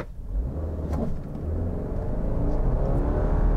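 Subaru Forester Wilderness four-cylinder engine with CVT accelerating, a steady droning rev held high and building in loudness from inside the car, no talk.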